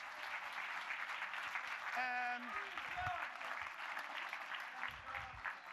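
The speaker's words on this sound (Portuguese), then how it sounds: "Palmas para o Jorge." Steady applause from an audience at a marketing conference in Portugal, a continuous wash of clapping lasting several seconds with a brief voice cutting in partway through.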